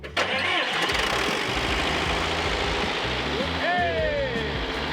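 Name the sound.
Cummins 4BT diesel engine starting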